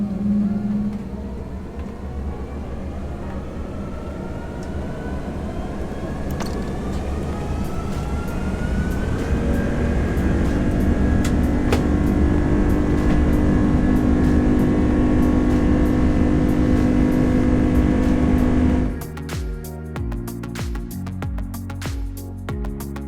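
An Airbus A330-300 airliner takes off, heard from inside the business class cabin near the wing. The deep engine roar builds steadily and stays loud, then drops away sharply near the end.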